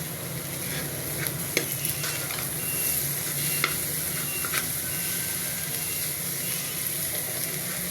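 Desi eggs fry in ghee in a pan, giving a steady close sizzle and hiss with occasional clicks of stirring, no talk.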